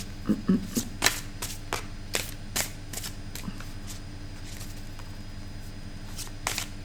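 A deck of cards being shuffled and cut at a table gives a continuous papery riffle, with crisp flicks and snaps at irregular intervals, close and fairly quiet.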